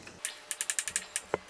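Metal-on-metal clicks and ratcheting taps as vice grips wiggle the brake pins off a Honda Rancher ATV's rear brakes, a quick close series of about ten sharp ticks, faint and with no talk.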